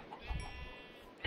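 A sheep in a video game lets out a brief nasal bleat, close and fairly faint, in a very short burst.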